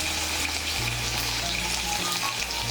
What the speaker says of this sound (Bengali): মিশিয়ে নিয়ে আলুগুলোকে হালকা করে একটু ভেজে নেব।